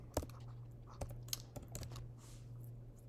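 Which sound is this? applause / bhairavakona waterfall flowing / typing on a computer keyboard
typing on a computer keyboard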